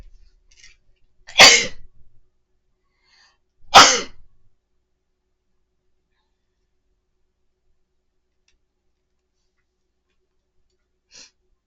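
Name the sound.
sneeze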